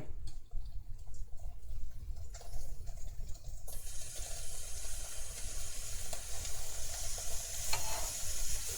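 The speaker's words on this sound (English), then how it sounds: "The rice is finally getting dry enough to kind of fry" Rice stir-frying in a pan, a steady close sizzle and hiss with scraping stirs, growing brighter and louder partway through as it keeps frying.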